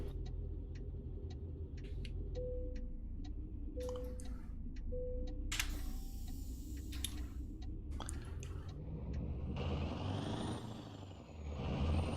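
A heavy-haul truck in American Truck Simulator idles with a steady low engine drone, punctuated by repeated ticking clicks, several short hisses, and longer bursts of air-brake release near the end.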